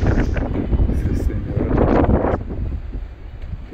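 Strong wind on a high hilltop in Izmir, Turkey buffets the microphone in a steady, rumbling roar, with a voice speaking briefly underneath.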